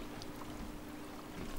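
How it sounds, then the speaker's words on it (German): Motorboats cruise along the Rhine during a busy summer packraft paddle, a steady broadband wash of engine drone and water noise with a low hum running throughout, no talk. "Auch richtig viele Motorboote unterwegs."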